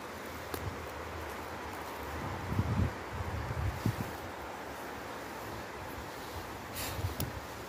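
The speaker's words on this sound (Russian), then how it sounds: "Ветер поднимается." Wind rising through an overcast forest in late May, a steady soft broadband rush with a few gentle gusts swelling briefly, faint and distant with no one talking.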